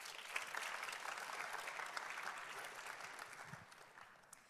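A church congregation applauds military families, a fairly quiet, steady patter of many hands that holds for several seconds and then thins and fades.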